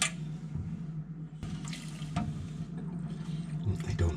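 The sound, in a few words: water being poured over a seed sprouting tray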